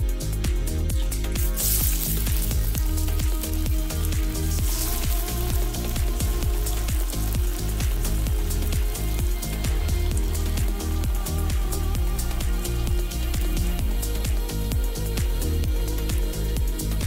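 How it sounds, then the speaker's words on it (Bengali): Pakoras deep-frying in hot oil until brown for a vegetarian Bengali Ekadashi meal, a dense, steady crackling sizzle like heavy rain that runs close and loud throughout. "পকোড়াগুলো এরকম ব্রাউন কালার করে ভেজে নেবেন।"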